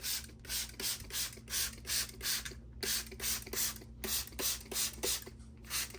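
Hand-pumped pink spray bottle misting water onto Yellowstone river rocks, a quick regular series of about a dozen short, close hissing spritzes with brief pauses.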